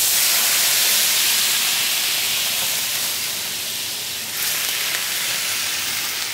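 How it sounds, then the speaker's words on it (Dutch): Fish frying in a hot pan hisses and sizzles loudly and steadily as a generous splash of white wine is poured in to deglaze it, a dense close steam-like hiss that dips briefly then rises again. "Op het moment dat hij bijna klaar is, blus ik hem af met een flinke scheut witte wijn."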